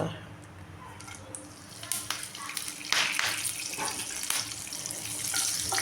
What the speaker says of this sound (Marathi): तेल चांगलं आपलं कडकड झालेलं आहे